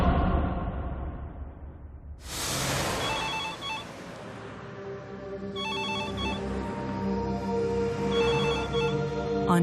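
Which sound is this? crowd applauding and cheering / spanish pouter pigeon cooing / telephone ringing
telephone ringing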